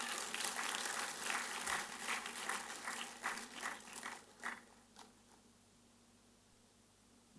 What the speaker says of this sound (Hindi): आप अपना ताली बजा के अपना खुद स्वागत करिए